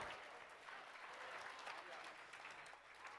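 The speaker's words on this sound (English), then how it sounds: "clap that out even if we didn't get 5 yet." Conference keynote audience clapping together, a sustained burst of many hands at moderate distance, faint overall, with a voice mixed in.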